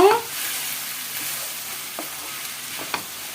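Okra is stir-fried in an uncovered pan, making a soft, steady sizzle that stays fairly quiet, with a few light clicks from stirring.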